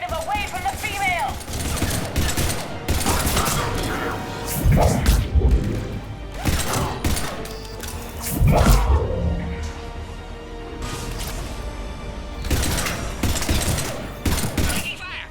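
Gunfire and crashing impacts in a Mass Effect 3 battle on Sur'Kesh, bursts of shots and heavy thuds at mid-distance, mixed with game voices and radio-style chatter.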